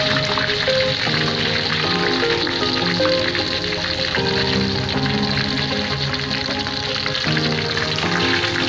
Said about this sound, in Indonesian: ini kita goreng ayam